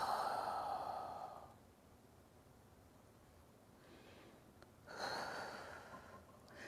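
Slow, deep yoga breathing during a hip-focused session: one long audible exhale, a quiet pause, then another breath in, close and soft with no talking.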